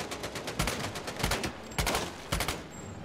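Rapid bursts of gunfire from Medal of Honor: Above and Beyond in Normandy, loud and close, with several sharp shots in quick volleys and brief gaps between them.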